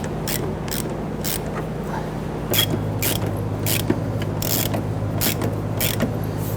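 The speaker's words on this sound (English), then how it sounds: "I'm just going to use my hand ratchet here" A hand ratchet spins fuel tank bolts up on a 2006-2012 Toyota RAV4 during fuel pump replacement, a loud, close, steady run of rapid metallic clicks over a low background hum.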